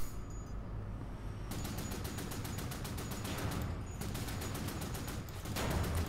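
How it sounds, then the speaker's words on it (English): Rapid bursts of automatic gunfire in the first-person shooter Wolfenstein: The New Order, loud and sustained with steady repeated shots over background game noise and no talking. "using my pro elite shooting skills"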